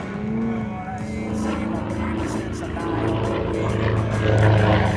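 A Yak-50 aerobatic propeller plane makes a pass at the Cold Lake Air Show. The engine drone shifts in pitch and swells louder toward the end, heard from some distance.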